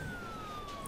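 In the Emergency 4 video game, a police car siren sounds as a short, steady electronic tone under low background noise, ending with a brief sharp click.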